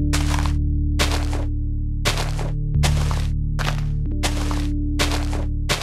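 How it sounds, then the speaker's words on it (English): Blocks being broken in the video game Minecraft while building a pool for a mini modern house: eight crisp cracking bursts in an even rhythm, loud and close, over a steady low background hum. "Start by destroying a ring of 4x5 blocks."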